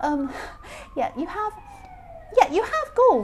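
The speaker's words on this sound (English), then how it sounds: "excuse that siren" A passing emergency vehicle siren wails in the background with a steady rising and falling tone, partly masked by someone talking over it.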